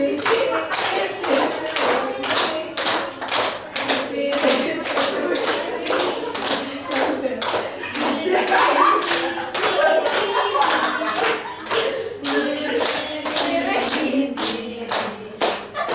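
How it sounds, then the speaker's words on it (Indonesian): A school class claps in rhythm along to a children's song during a microteaching lesson, with steady, fairly loud repeated hand claps, voices singing or talking beneath them. "Semuanya tepuk tangan dong kalau nyanyi."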